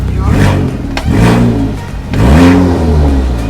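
Engine of a race-prepared VW Jetta 2.0 GLI with DSG gearbox revved in neutral, rising and falling in three loud, close blips with a harmonic whine between them.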